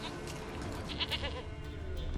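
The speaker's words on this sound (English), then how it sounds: "Here, goat." A goat bleats briefly in the video game The Witcher 3, over a dense, steady background of ambient sound.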